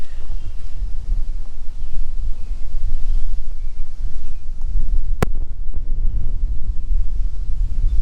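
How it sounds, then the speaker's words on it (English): Steady wind buffets the microphone with a low, roaring rumble throughout in an abandoned ghost town in Wisconsin, one sharp click partway through, and no voices. "It's a little bit windy out here"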